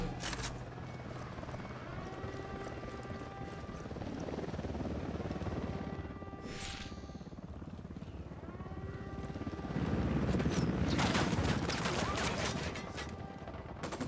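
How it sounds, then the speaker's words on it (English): A helicopter approaches in the Ghost Recon Wildlands video game, a steady rotor drone swelling gradually while bursts of gunfire crackle around it, fairly faint overall with a louder surge near the end. "Chopper incoming."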